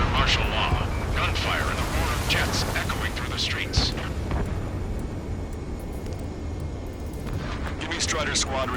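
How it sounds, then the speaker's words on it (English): In a video game, a city under martial law fills with rolling explosions, bursts of gunfire and the roar of jets overhead, loud and continuous, with voices talking over the battle din. "Gunfire and the roar of jets echoing through the streets."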